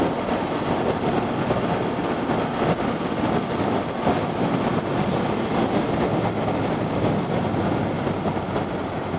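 A 2020 Can-Am Ryker three-wheeler on backcountry roads, with a constant loud rush of engine drone and wind noise from on board and no talking.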